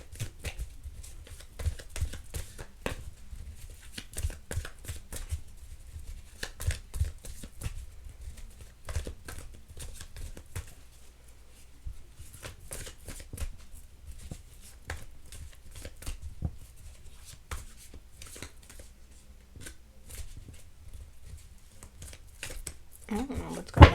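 Tarot-style playing cards are handled and shuffled close up, with soft repeated riffles, flicks and slides as three cards are drawn from the deck, faint and intermittent throughout.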